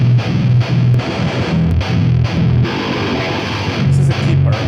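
Modern metal electric guitar in drop E tuning, heavily distorted low palm-muted chugs in tight rhythmic bursts with short gaps, loud and upfront.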